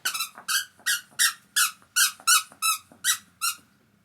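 A miniature Dachshund puppy chews a squeaky sausage dog toy, producing about ten sharp, rhythmic squeaks in quick succession, close and clear with no talking.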